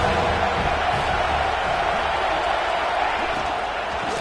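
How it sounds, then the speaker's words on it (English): Stadium crowd at a college football game, Texas Tech at Alabama, cheering on a big third down, a steady dense roar that holds loud and even throughout with no pauses. "Big 3rd down as the crowd gets behind this defense."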